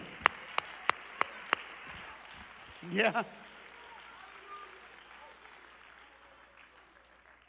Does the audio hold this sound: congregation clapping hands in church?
yes